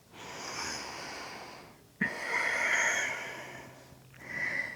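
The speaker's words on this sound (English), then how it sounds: "Exhale, just one more." Slow, audible breaths during a beginner yoga class for the neck and shoulders, a long airy exhale, a sharp intake, then another soft breath, all close and steady with no talking.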